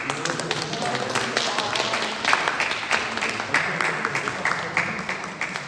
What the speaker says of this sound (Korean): 우리 환영하는 박수를 드리도록 하겠습니다